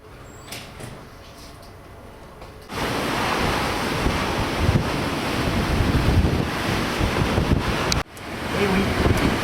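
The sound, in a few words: strong wind at sea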